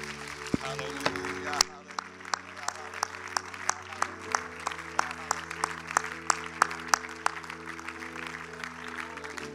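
A church audience gives a rhythmic hand clap of praise, sharp regular claps repeating steadily over sustained organ or keyboard chords, with some talking mixed in.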